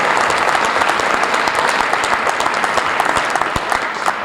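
An auditorium crowd at a high school varsity jacket award night claps for award recipients, a full steady round of applause with a few sharper individual claps standing out near the end.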